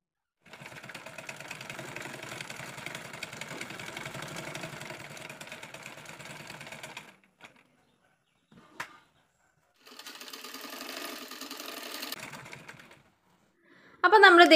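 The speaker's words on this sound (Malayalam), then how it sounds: "അപ്പോൾ ഈ ഒരു പാറ്റേൺ നമുക്ക് സ്റ്റിച്ച് ചെയ്തെടുക്കാം" A sewing machine stitches a nighty frock pattern in two long, steady whirring runs separated by a short pause, close and fairly loud.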